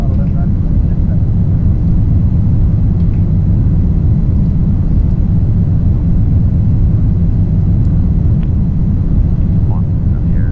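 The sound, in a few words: rocket engine throttling up in Orbiter Apollo 13 simulation game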